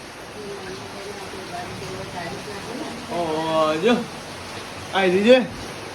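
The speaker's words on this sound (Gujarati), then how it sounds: "જબ્બર વરસાદ ચાલુ થઈ ગયો બરાબર નો વરસાદ ચાલુ થયો" Heavy rain pouring down outdoors as a steady broad wash of noise, with people talking over it in the middle and toward the end.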